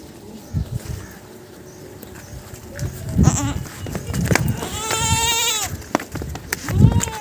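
A goat bleats at a livestock sale ahead of Qurbani, a wavering drawn-out cry near the middle, rising again toward the end amid people talking and outdoor bustle.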